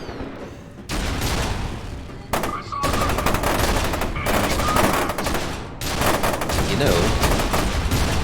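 Sustained turret machine gun fire in the F.E.A.R. 2 video game, loud, dense continuous bursts with brief gaps, a voice speaking briefly over the shooting.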